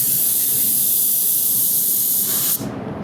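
Close, loud hissing of a spray gun laying down clear-coat about six inches from the surface, one continuous blast of about two and a half seconds before the trigger is released and the hiss stops sharply.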